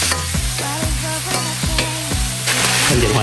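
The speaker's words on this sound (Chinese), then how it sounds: "然后翻炒均匀" Chicken, Chinese sausage and sauce stir-fried in a wok for Cantonese claypot chicken: a loud, continuous sizzle, close up, with repeated scraping strokes of a spatula and no voices.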